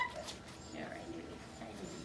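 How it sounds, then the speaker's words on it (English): A small Shih Tzu dog with neck pain whimpers and whines softly through a short stretch, close by, under and between people talking. "Oh, get away from that dog."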